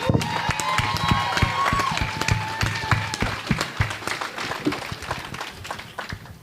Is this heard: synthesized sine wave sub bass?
no